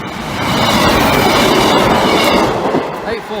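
A Class 158 diesel train rolls close past a level crossing, a loud rushing rumble with rhythmic wheel clatter that swells and holds.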